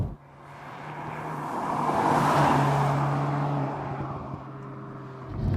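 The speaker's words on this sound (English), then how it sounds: "As I'm sure you could tell from the drive-bys of this car" A Volkswagen Golf R Mk7 passes on a road, its engine note swelling from near-silence to a loud peak around the middle and easing off again, with a steady tonal hum throughout and no talk.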